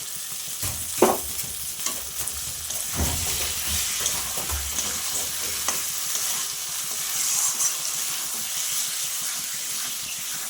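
Katla fish masala with yogurt stirred and fried in a pan, a steady close sizzle with scraping strokes of a spatula, louder bursts early on, continuing evenly without talk.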